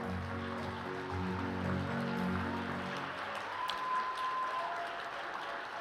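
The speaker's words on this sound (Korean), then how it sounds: "다시 한번 큰 축하의 박수를 부탁드리겠습니다" An audience at a ceremony claps in congratulation, a dense patter of many hands that swells and fades after a sustained musical tone dies away.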